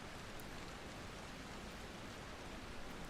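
Steady rain falling in a video game, a dense, even wash of patter with no distinct drops standing out, continuous and fairly soft throughout.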